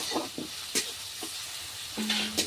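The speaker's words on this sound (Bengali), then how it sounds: "পেঁয়াজগুলো আমি হালকা করে ভেজে নেব।" Chopped onions frying lightly in a pan after cumin, a steady sizzle broken by several scraping stir strokes and a brief clink near the end.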